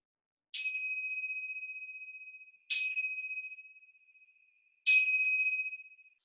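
A chime rings three times at even intervals during a kids' yoga class, each bright metallic strike leaving a long, slowly fading ring in an otherwise quiet room.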